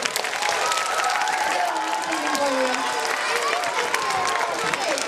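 Children and adults at an elementary school morning assembly give a loud round of applause, with cheering and young voices calling out through the clapping.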